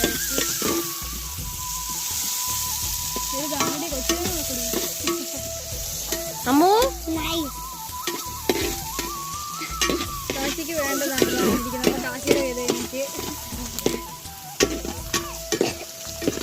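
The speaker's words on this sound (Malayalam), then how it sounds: "നന്നായിട്ട് ഇളക്കി കൊടുക്കുക വഴറ്റണം അല്ലേ സവാളയൊക്കെ" Onions, garlic and green chilies stirred and sautéed in a pan for kappa biriyani, a steady sizzle with repeated scraping stirs, close and continuous, no talk.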